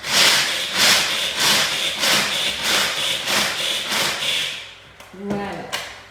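A food chopper coarsely chops almonds and pistachios for nougat glacé, with about ten close, loud, evenly spaced chopping strokes followed by a brief clatter.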